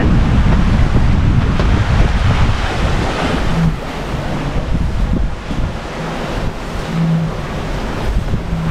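Strong wind and breaking waves surround a sailboat at sea in a gale, running wing on wing. A loud, steady roar of wind buffets the microphone over the constant rush of surf, with no talking.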